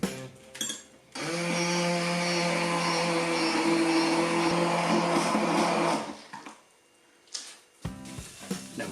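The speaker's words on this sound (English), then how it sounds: "Whisk the eggs." Eggs for a bacon tortilla are beaten with a whisk in a steady, rapid whirring burst lasting about five seconds, framed by brief clinks and knocks before and after.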